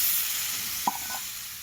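Water poured into a pan of curry gives a steady, soft hissing sizzle, with a single brief clink of utensil partway through and no talking.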